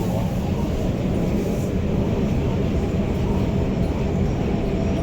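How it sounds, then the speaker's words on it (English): A steady, loud rumble from inside a moving REM light-rail train in Montreal, between Pierrefonds-Roxboro and Côte-de-Liesse, with a broad continuous roar of wheels and motors and no gaps. "The REM train."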